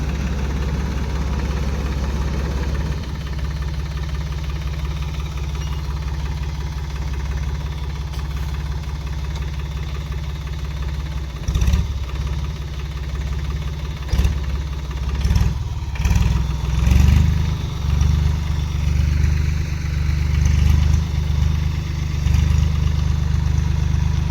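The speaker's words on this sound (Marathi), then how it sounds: "ट्रॅक्टर आता चाललंय आपल्या आपल्या जाग्याला आराम करायला" A farm tractor engine runs steadily at a low idle throughout, a continuous near rumble with a few louder bursts and knocks where it revs up in the second half.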